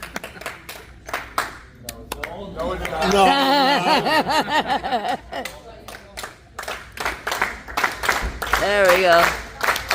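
Jayvee and varsity team members and families at an end-of-season banquet attempt a rhythmic team clap, sharp sharp claps in bursts mixed with cheering, laughter and chatter from a lively crowd nearby.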